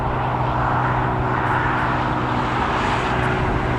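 A KLM airliner takes off from the runway at Newcastle Airport, a loud, steady, broadband engine roar filling the whole stretch without letup.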